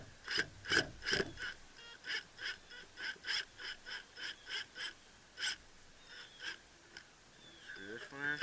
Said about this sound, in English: I'm going to screw in these screws